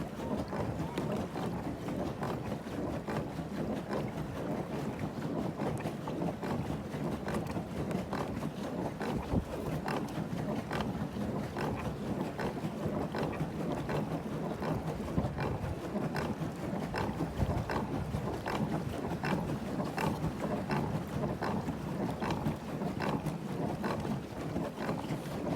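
Steady wind roars across open water while a beginner paddles a kayak solo, a continuous broadband rush with faint gusts and no talk.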